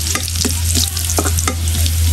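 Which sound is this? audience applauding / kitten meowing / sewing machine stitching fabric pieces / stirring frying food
stirring frying food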